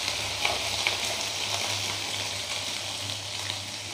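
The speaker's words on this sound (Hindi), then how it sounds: "अब हम इसमें डालेंगे 1 चम्मच अदरक लहसुन का पेस्ट। इसे चला लेंगे।" Ginger garlic paste frying in a pan for a rajma dish, a steady close sizzle with a few soft stirring scrapes, no voices.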